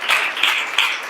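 An audience at a school gathering applauds, a brief burst of dense, bright clapping that swells in small waves and holds for about a second.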